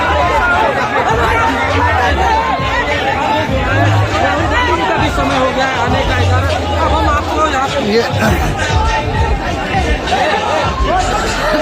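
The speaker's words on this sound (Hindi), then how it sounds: "भीड़ बहुत हो गई है, अब यहाँ पे थोड़ा बात करना मुश्किल हो जा रहा है" A dense crowd of students chatters loudly and steadily at a packed political gathering for Rahul Gandhi's well-wishers, with a voice speaking over the continuous babble throughout.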